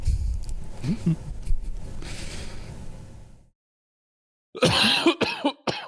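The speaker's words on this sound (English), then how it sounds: "I was trying to end that so fast because I was about to cough." A few sharp coughs come after some muffled talk, then a brief silence, loud and close to the microphone.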